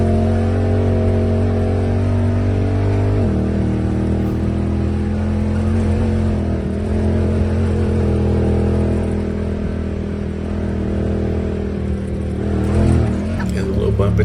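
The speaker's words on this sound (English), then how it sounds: "So then we had to make a rip in the Honda Talon." A Honda Talon side-by-side runs down a driveway, its engine droning steadily and loudly throughout with a slight shift in pitch partway, while a voice talks over it.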